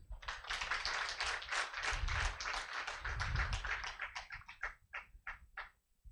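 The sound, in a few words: audience applause welcoming a speaker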